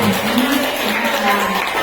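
An audience at a school positive-culture presentation applauds the presenter with a dense, continuous wash of clapping, loud and close, while a voice carries on faintly underneath.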